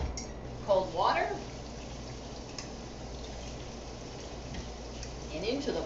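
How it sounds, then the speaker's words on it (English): Green beans are rinsed under running cold water, a steady close patter and trickle of tap water, with brief voices speaking over it near the start and end. "Now we're just going to rinse them off."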